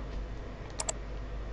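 A computer keyboard during a Blender texturing tutorial, with two quick, light keystrokes close together against a quiet room hum.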